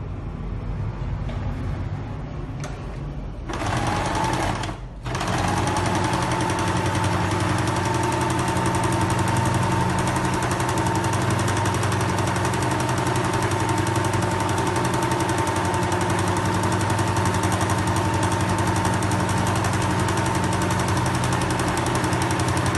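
A sewing machine stitches steadily around the edge of beige felt laid over blue felt, a continuous loud motor hum and rapid needle chatter running without pause after a brief start and a short stop near the beginning.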